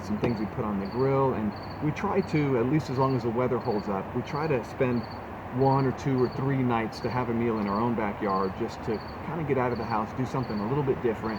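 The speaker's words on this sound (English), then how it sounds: "it's always nice just to sit down where it's quiet and we hear the crickets." Crickets chirp in a regular, pulsing rhythm in a quiet Colorado backyard at dinnertime, a steady high trill running throughout beneath someone talking in the foreground.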